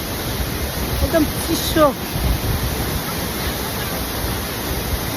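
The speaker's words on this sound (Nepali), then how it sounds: "यो फल्स चाहिँ हेर्नु कति राम्रो छ, एकदम माथिबाट एकदम आइरहेको अवस्थामा पाउँछ हामी है।" Jhankri Falls in Sikkim pours from high above as a continuous broad roar of falling water, steady throughout, with brief speech in the middle and some wind buffeting.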